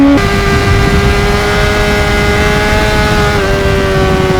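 A Honda CBR600RR sport bike holds a steady, close, droning engine note while riding among busy car traffic on a usually quiet road, with no talk.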